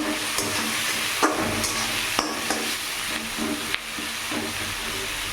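Onions fry in oil with a close, steady sizzling hiss, broken by several sharp scraping stirs of a spatula against the pan; nobody speaks.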